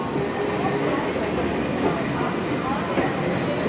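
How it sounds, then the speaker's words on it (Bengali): A Duronto Express train rolls into Howrah station, a steady, loud wash of rumbling rail and carriage noise that holds constant throughout before cutting off abruptly. "দুরন্ত এক্সপ্রেস ঢুকছে হাওড়া স্টেশন"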